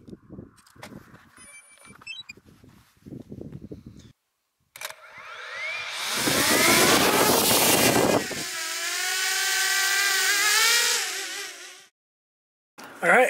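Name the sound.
drone flying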